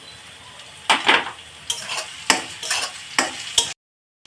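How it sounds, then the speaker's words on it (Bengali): Onions and green chili frying in a pan while being stirred: about six loud scraping strokes, each with a burst of sizzle, close up, with no talk, ending abruptly in silence. "এবার কাঁচা লঙ্কাটা দিয়ে আর একটু ভেজে নিব লাল লাল করে"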